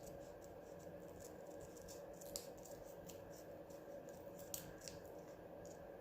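Faint, close scissors snipping through card paper, a series of small crisp cuts and scratchy rasps at an uneven pace over a quiet room hum.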